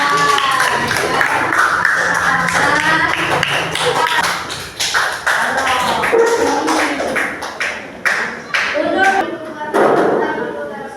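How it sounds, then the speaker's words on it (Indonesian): A classroom of students claps for classmates, a dense burst of overlapping sharp hand claps that thins out toward the end, mixed with voices chattering. "tepuk tangan buat mereka."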